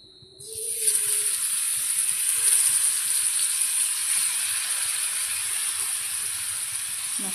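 A fish dropped into hot oil in a pan sets off a sudden loud, bright sizzle that holds steady and hissing for several seconds, heard up close.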